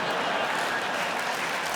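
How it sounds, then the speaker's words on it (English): Brief burst of audience applause at a stand-up comedy show, a steady wash of clapping lasting under two seconds. "Don't clap for that."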